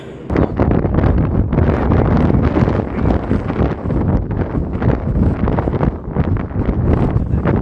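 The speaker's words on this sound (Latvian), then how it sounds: "tiešām liels vējš, tikai dzirdi, ka tas vējš ir" Strong wind buffets the microphone in loud, uneven gusts that roar continuously throughout beside a lighthouse on the coast, with no voices.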